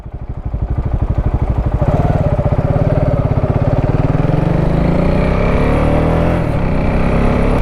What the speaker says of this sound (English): There is so much traffic right now.